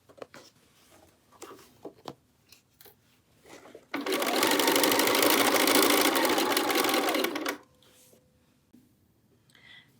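Sewing machine stitching binding along a quilted Tamarack jacket, a single steady burst of whirring lasting a few seconds, framed by quiet handling clicks before and after.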